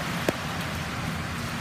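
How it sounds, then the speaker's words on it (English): Heavy rain pours during a flash flood in Louisville, Kentucky, near the Ohio River, a steady dense hiss throughout with one brief louder knock early on. "It is raining so hard."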